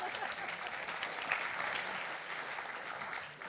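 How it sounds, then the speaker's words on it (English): Conference audience at a sustainable aviation event clapping after a talk, a continuous, moderately distant wash of applause that tapers slightly at the end. "ladies and gentlemen, you can keep on clapping"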